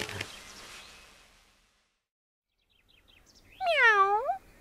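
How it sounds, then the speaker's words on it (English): A single drawn-out cat meow, rising then falling in pitch, sounds clearly near the end after a short pause of silence, with brief talk at the very start. "Pull, cat. Meow."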